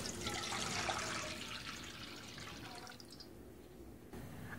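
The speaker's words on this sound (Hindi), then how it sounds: "इसमें एक लीटर पानी डालेंगे" Water poured into a kadhai (wok) at the start of making an imli and aloo bukhara sharbat: a steady, close splashing rush for about three seconds that thins into faint trickling and stops.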